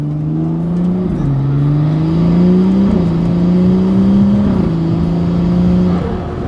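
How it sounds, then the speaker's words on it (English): A turbocharged car engine drones loudly and steadily, its pitch rising in stages as it accelerates through gears, with a whooshing, whirring turbo intake tone. "Turbo is nuts. The induction noise is just crazy, man."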